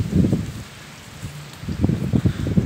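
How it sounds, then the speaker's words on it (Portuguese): Gusty wind rustles through leaves in uneven bursts, fading in the middle and swelling again, fairly close with no talking. "Tá ventando bastante"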